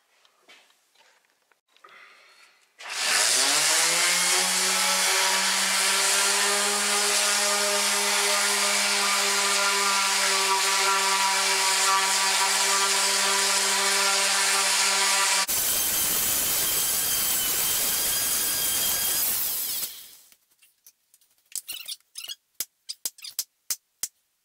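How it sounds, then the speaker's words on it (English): A resin and wood turning piece is sanded on a spinning lathe, giving a loud, steady, high-pitched whine. It runs unbroken for about seventeen seconds, then stops and is followed by scattered sharp clicks. "Alright, now I gotta get to sanding."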